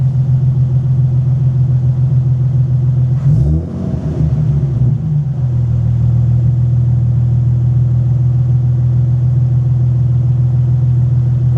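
Nissan 370Z engine idling with a steady low hum, broken by a brief surging squeal and rumble as the serpentine belt slips for about two seconds before the idle settles again.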